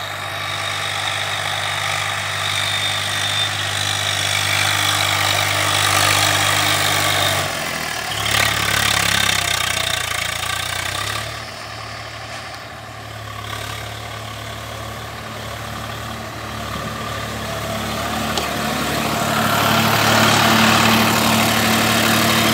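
A Swaraj 744 FE tractor engine runs loud and steady throughout, working a farm field and turning soil under load, with a deep droning hum and slight shifts in pitch and roughness partway through. No one speaks.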